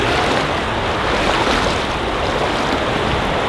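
Loud, steady rush of river current during a hike in Zion National Park, a dense broadband wash of water continuing without pause and close to the listener, with no talking.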